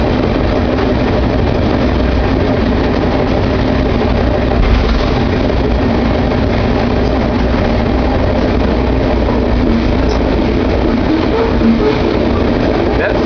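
A loaded grain hopper freight train on the MRL rumbles continuously with a low, heavy drone and a steady rolling roar, loud and close throughout with no breaks.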